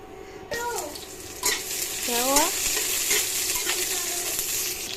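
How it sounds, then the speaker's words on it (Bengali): Onion and a few curry leaves sizzle in hot oil, a steady frying hiss with a couple of stirring scrapes, close and fairly loud, with no talk over it. "এখানে আমি পেঁয়াজ আর অল্প করি পাতা দিয়ে দিলাম"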